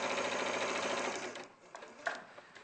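A domestic sewing machine runs steadily as it stitches a long seam through festive fabric, a dense continuous whir for over a second before it slows and stops, leaving a few faint clicks and handling sounds.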